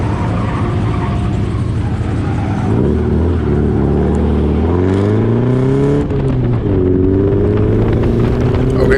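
A drift car works a track on cold tires, its engine droning loud and steady and rising and falling in pitch through repeated revs. A constant roar of engine and tire noise runs with no break.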